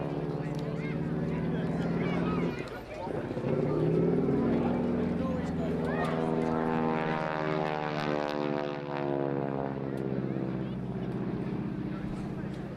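A North American Aviation propeller aircraft roars past at an air show, its loud engine drone rising and sweeping through a long pass, with a commentator talking over it throughout.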